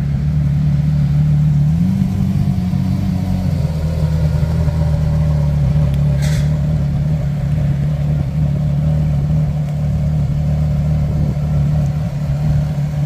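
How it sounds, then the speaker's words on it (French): A sports car with a modified exhaust, spotted in Monaco, rumbles steadily with a deep, throaty exhaust note, idling loud and close with a brief rise in pitch. "c'est celle qui a les échappements modifiés qui fait un bruit de fou."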